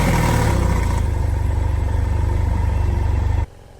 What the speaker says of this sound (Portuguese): Esquentar o motor da cabrita aqui.